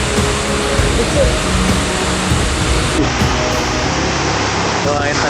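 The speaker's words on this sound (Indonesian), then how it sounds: "Wah, air terjun banget." Tiered waterfall at Lubuk Hitam in Padang, a loud continuous broadband rush of falling water close by, steady throughout with a brief shift near the middle.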